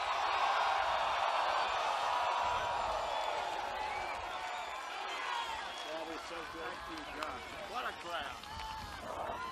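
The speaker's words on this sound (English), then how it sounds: "Wow, what a crowd this is." Large crowd roaring and cheering at a political rally with a senator, a dense sustained wash of voices loud at first and easing slightly, with scattered shouts toward the end.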